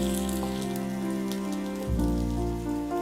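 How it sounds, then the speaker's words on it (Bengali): Chopped onion and garlic fry in hot oil for a Bengali-style dal, giving a steady close sizzle and crackle that runs on without a break and with no voices. "পেঁয়াজ আর রসুনটা আমি ভেজে নিলাম।"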